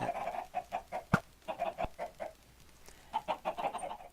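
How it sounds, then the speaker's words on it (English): Rhythmic clucking from several video game chickens laying eggs, in quick bursts, close and clear, with a couple of sharp clicks and a short pause midway. "you can hear them laying eggs now"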